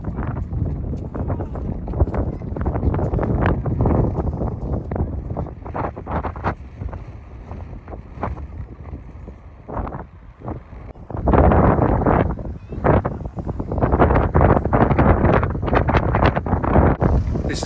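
Strong gusting wind near the lighthouse on Texel, loud buffeting roar battering the microphone continuously, swelling and easing in waves.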